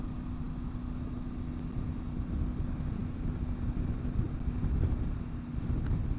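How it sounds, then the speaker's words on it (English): Steady low rumbling wind buffets the microphone throughout, a constant dull roar with no voices. "Man, it is windy today."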